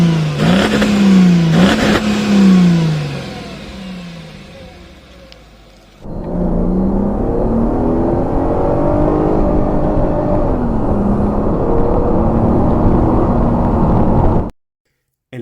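A Mercedes E430 W210 V8 with a five-speed automatic accelerates hard, its engine note rising in pitch. It drops back once, then climbs again steadily and loudly until it cuts off abruptly.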